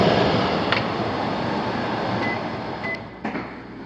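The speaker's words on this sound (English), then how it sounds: "But we have a vent fan here, the one that's too close, and it vents, it's circulating" A steady, loud whooshing microwave vent fan hum runs throughout, with a couple of faint clicks near the end.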